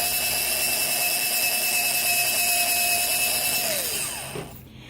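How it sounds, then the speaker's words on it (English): A small handheld drill spins an old, worn 12-gauge cleaning brush with a steady whine and tonal hum for about four seconds, then winds down and stops near the end. "So here's a cleaning brush to I believe 12 gauge, and it's kind of an old thrashed brush."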